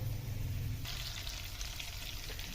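Cumin seeds and ground dried coriander frying in hot oil with garlic and onion for black urad dal, a steady close sizzle with a brief stirring change partway through.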